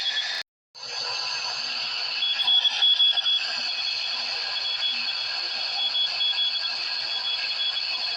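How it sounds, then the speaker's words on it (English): A steady high-pitched electronic tone pulses in rapid Morse code dots and dashes over faint static, 40-meter CW received in AM mode on an Icom R6, continuous and fairly quiet after a brief break at the start. "I'm definitely recognizing Morse code in there."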